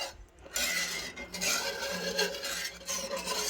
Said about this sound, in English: just go ahead and keep stirring it like this